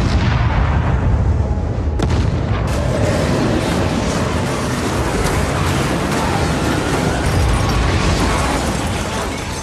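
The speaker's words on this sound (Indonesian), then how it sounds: "Ledakan besar pun terjadi." A huge bomb explosion in a Fast and Furious action film, set off as it is pushed toward a river in a city. It is a loud, dense, sustained roar and rumble with crackling bursts throughout, lasting the whole stretch.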